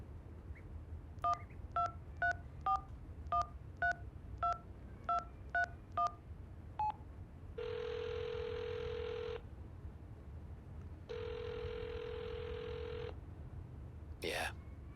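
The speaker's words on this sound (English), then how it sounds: "Dial the number." A phone number is dialed in the video game HitchHiker: about ten evenly spaced touch-tone beeps, then two long ringing tones and a brief click at the end, all quiet and clear.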